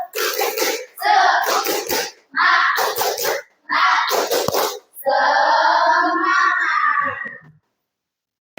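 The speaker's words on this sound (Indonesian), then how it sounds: "Tepuk semangat." A class of schoolchildren does the 'tepuk semangat' spirit clap in an Indonesian classroom, bursts of rhythmic group clapping mixed with chanting voices, ending in a long sustained shout before silence.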